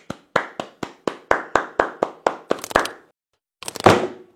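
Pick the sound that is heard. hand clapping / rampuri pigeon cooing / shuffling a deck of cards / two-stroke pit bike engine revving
hand clapping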